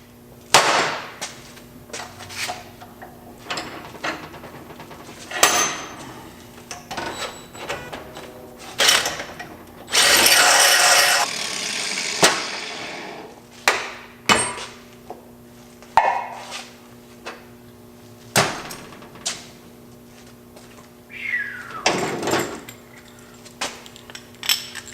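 Short bursts of drilling on a BMW E36 Condor Speed Shop engine mount, enlarging both bolt holes, come as sharp clattering grinds separated by pauses, with a longer sustained whine in the middle and a steady hum underneath.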